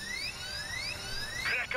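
A drill running during a bank heist in a video game, a steady high whine with rising pitched tones sweeping upward, ending in a brief burst of brighter mechanical noise near the close.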